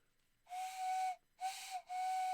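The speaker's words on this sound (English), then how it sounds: "Sound like a little steam engine." A toy train whistle blown in three separate blasts with some holes partly covered, each a breathy steady tone with a steamy hiss, close and alone.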